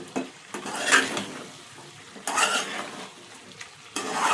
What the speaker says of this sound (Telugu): మంచిగా ఇట్లా వేగాలి నూనె